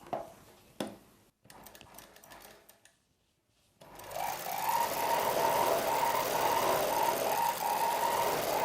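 A sewing machine runs a line of stitches along the lining piece of a saree blouse. A few handling clicks and a short pause come first, then a steady, fast, close mechanical whir.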